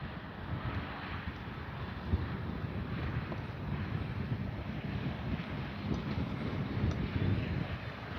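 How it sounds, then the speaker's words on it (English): Constant wind roars and buffets the microphone outdoors at an RC airplane flying field, a steady rumbling gust with no pauses for the whole stretch. "It is windy."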